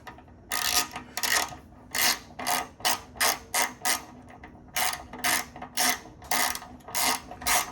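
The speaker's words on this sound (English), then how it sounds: "Torque them till they're tight" A ratchet wrench clicks in repeated bursts of short strokes while bolts on a GSXR750 motorcycle are torqued, each burst loud and close, with brief pauses between them.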